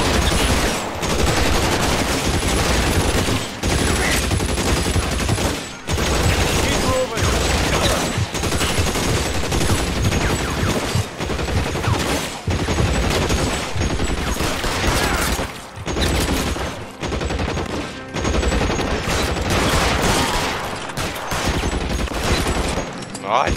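Sustained heavy gunfire in the video game L.A. Noire, a dense, loud fusillade of overlapping shots and bursts that runs almost without pause, with only a few brief gaps.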